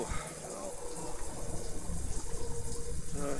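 A shower runs in The Sims 4, giving a steady hiss of falling water at moderate level with a faint voice underneath.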